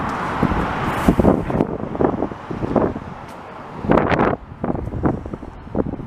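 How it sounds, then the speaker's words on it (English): Gusty wind buffeting a microphone while walking along a city boulevard in Montreal, loud rumbling roars that swell and drop in uneven waves, with passing traffic blended in underneath. "The wind is just behind our back there."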